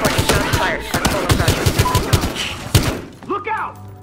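Rapid bursts of gunfire in the video game Battlefield Hardline, a string of sharp cracks through the first three seconds, followed by shouting voices and game noise as people talk over the action.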